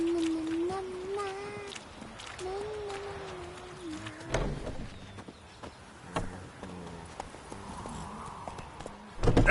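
Hoofbeats of Roach, Geralt's horse in The Witcher 3, clip-clop along steadily under game music and a brief spoken line, with another horse's whinny faint in the mix.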